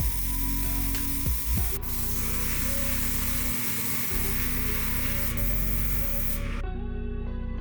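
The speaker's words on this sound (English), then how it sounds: "I'm using my airbrush" An airbrush sprays paint onto a custom Littlest Pet Shop figure, making a steady close hiss with a low compressor hum beneath that cuts off sharply near the end.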